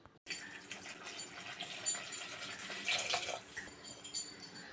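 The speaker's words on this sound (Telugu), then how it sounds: "ఇప్పుడు కొంచెం నీళ్లు పోసుకుందామండి" Water poured from a vessel into a pot of lentils seasoned with salt and curry leaves, a soft steady splashing and trickling that swells and eases for several seconds, fairly quiet and close, with no talking.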